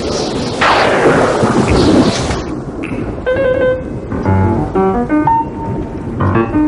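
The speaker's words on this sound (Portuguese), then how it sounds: "Está virando uma tempestade?" A cartoon thunderstorm opens with a loud, close crack and rolling rumble of thunder over heavy rain, then settles into rainfall under bright musical tones and chimes.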